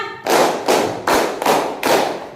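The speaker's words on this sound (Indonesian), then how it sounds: "Tepuk 1, tepuk 2, tepuk 3, tepuk 4, tepuk 5" Schoolchildren in a classroom clapping in unison in a counted pattern, five loud group claps spaced evenly about every half second, each with a short roomy tail.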